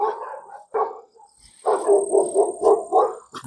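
A dog approaching on a countryside walking trip gives a few short barks, then a quick string of close, loud yips and barks, with no talk.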